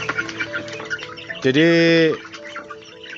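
Someone talks while a free-range native chicken lets out a single loud, drawn-out call, with faint clucks and chirps in the background.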